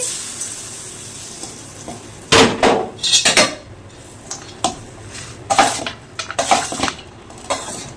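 Pulihora, tamarind rice, being mixed in a metal pot in a home kitchen: a spoon scrapes and clanks against the pot in irregular bursts over a faint background hiss.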